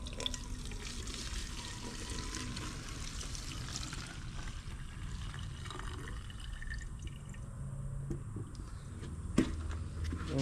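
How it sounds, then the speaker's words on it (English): Old gasoline drained from a Honda CRF450RWE dirt bike is poured into a plastic water bottle. It makes a continuous close trickle and gurgle of liquid at low level, with a faint knock near the end and no speech. "what I normally do with this old stuff is I pour it into a water bottle"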